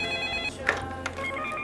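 A telephone ringing with a repeating electronic tone, nearby and fairly loud, with brief clicks breaking the pattern partway through.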